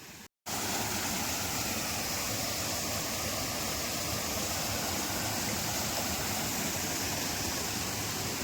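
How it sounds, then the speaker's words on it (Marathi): A rain-swollen stream in the Konkan countryside after a stormy downpour, rushing as a steady, loud, unbroken roar of water after a brief gap at the start. "इकडे धोंडीचा पाणी आहे"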